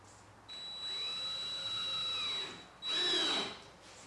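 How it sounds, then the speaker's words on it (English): Power drill or driver whirring steadily as screws go in to hold down the frame of a homemade exposure unit, one long run followed by a shorter, louder burst, close by and with no talk. "I'm going to put a couple of these screws in"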